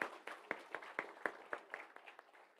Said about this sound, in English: give a big round of applause to our architect, Ugandhar, for the fantastic session